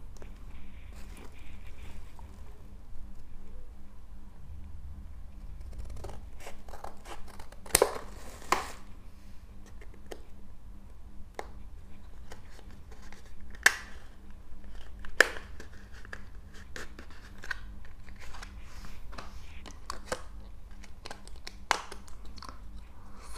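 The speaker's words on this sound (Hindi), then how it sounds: "चलिए निकालते हैं इस पेन ड्राइव को।" A SanDisk Ultra 128 GB dual USB pen drive is pulled from its retail packaging, with scattered crinkles, snaps and tearing clicks of plastic and card spread irregularly over a quiet room background, close and fairly soft.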